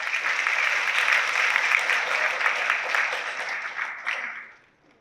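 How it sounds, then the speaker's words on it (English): An audience applauds loudly and steadily, a dense wash of clapping that holds for several seconds before tapering off and fading out at the end. "Let's give this brave knight a round of applause"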